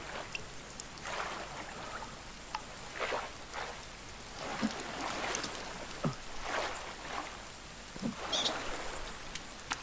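Rain in the survival video game The Forest, a continuous soft hiss of falling drops with scattered louder patters and splashes at moderate distance, heard alone without talk.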